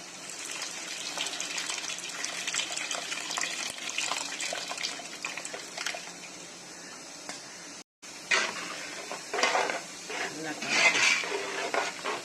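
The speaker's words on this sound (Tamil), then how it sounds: "நல்லா கலக்கிக்கலாம் எல்லாம் ஒன்றா சேர்த்து." Steady scraping and swishing of a utensil stirring a thick fish curry with ground tomatoes and tamarind water in a pot, continuous with a brief pause, plus occasional clinks against the metal.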